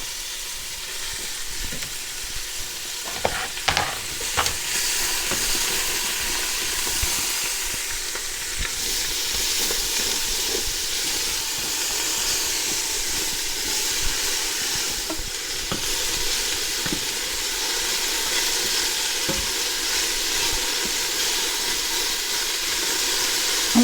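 Chicken pieces and fennel sizzle steadily in oil in a pan for a fricassee, a constant frying hiss broken by occasional scrapes and clacks as the pieces are stirred and moved around.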